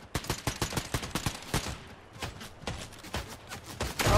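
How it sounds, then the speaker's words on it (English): Pumpkin launcher fire in the video game Fortnite comes as a rapid string of sharp, punchy bursts in quick succession, fairly quiet overall and with no talking over it. "I need to kill him with the pumpkin launcher"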